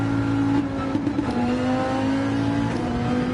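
Race car engine from a Gran Turismo 7 GR3 machine, holding a steady, loud high-revving drone with sustained harmonic tones and slight pitch shifts throughout, no talking.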